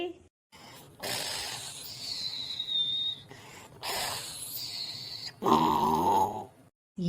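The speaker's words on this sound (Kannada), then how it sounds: "ಸೀಟಿ ಹೊಡಿತಾ ಇದ್ದಾನೆ" A high, wavering whistled tone rises and falls among breathy rustles, then a shorter, louder whistle returns later.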